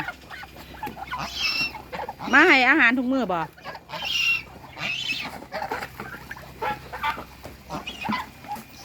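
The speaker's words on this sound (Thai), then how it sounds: "มีเบิดทั้งเป็ดทั้งไก่ทั้งห่านทั้งไก่งวงอยู่น้ำกัน" Backyard poultry on a garden farm, with ducks, chickens, geese and turkeys near water, giving scattered clucks, squawks and honks close by while someone talks over them.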